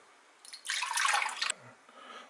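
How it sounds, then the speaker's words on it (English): Eggs and water pour into a mixing bowl for pumpkin bread, a close, brief splashing gush lasting under a second with a few light drips after. "Put the eggs into the mixing bowl and the water."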